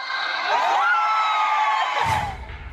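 Fans scream and cheer at a concert in the Philippines, a loud, sustained, high-pitched crowd roar with rising shrieks. Near the end it cuts to lower, rumbling crowd noise.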